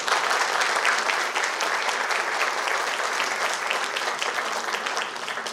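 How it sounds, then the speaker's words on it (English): A college graduation crowd in Pokhara gives graduates a loud, dense round of applause that holds steady for several seconds and eases slightly toward the end. "let's put a huge round of applause for the success of these wonderful graduates"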